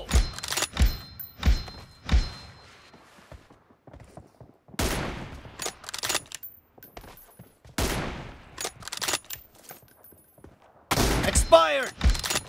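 Video game gunfire from an M24 round cracks out in sharp separate shots and short bursts, loud and close, with quiet gaps between, followed by a longer rattling burst near the end.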